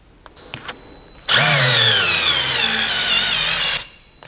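A DeWalt gyroscopic screwdriver on its max setting with the clutch disengaged, driving hard in one loud continuous whirring burst of about two and a half seconds, close up, preceded by a few light clicks.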